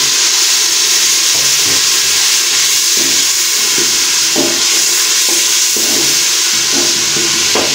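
Masala for dal mash being stirred and fried in a pan with green coriander, a steady close sizzle and hiss broken by repeated scraping stir strokes, no talking.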